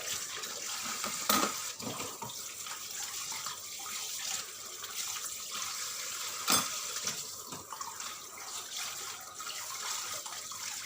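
Steady running water from a tap flows over surgical instruments as they are rinsed several times in clean water, a continuous close splashing wash broken by a few sharper clatters.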